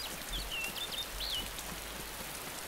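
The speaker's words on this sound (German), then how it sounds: "guck mal, wie der Regen hier auf die Mauer prasselt" Rain in DayZ patters steadily onto a wall as a dense, even hiss, with a few faint bird chirps high above it.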